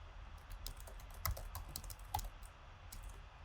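Code being typed on a computer keyboard, with steady close-up key clicks in a continuous irregular rhythm and a few louder, heavier strikes, no voice present.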